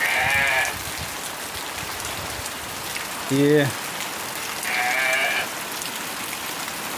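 A sheep bleats twice, a few seconds apart, over steady rain; a short low voice sounds briefly between the calls.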